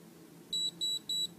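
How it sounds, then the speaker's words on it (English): Three short, evenly spaced high-pitched electronic beeps from an ageLOC Galvanic Body Spa device sound in quick succession over a faint background hum. "press the button so that hopefully you get the 3 beeps"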